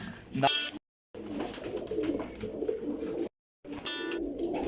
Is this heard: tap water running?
no